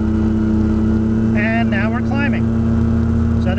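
ASH-26E motor glider engine running after an air start, a steady droning tone heard from the cockpit while someone speaks briefly over it.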